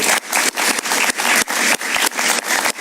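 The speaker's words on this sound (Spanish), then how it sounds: "Un aplauso para él, por favor." A television studio audience gives a guest loud, dense applause up close, pulsing in a rhythmic wave of clapping throughout.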